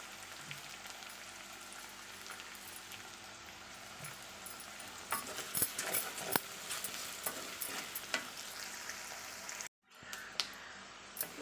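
Chopped onions with salt sauté quietly in a pan for a brinjal fry, giving a soft, steady sizzle with scattered scraping stir strokes that grow busier midway, then a brief dropout near the end.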